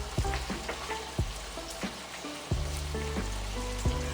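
Hamburger steak patties fry in a skillet, giving a continuous close sizzle broken by crackling pops and a few soft clanks, with no voices.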